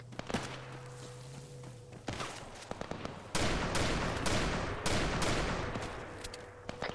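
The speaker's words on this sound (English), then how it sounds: "50 cal bullets!" Heavy .50 cal machine gun fire in the Arma 3 military game, loud bursts of repeated thudding shots with sharp cracks, continuing densely through the second half.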